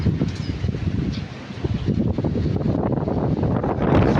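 Strong wind buffeting the microphone in a continuous low roar that swells toward the end, loud and close, with no talking.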